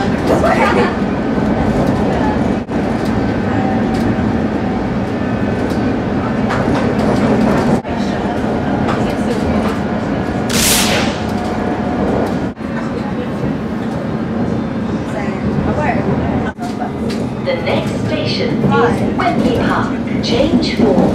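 A London Underground train near Wembley rumbles steadily along with rhythmic clattering and occasional brief hissing bursts, loud and continuous throughout.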